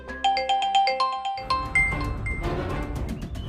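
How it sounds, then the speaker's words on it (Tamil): A mobile phone ringtone plays a bright, repeating chime melody of plinking notes, then shifts into a denser, louder jingle, alone and fairly close. "உன் ஃபோன் தான் சக்தி."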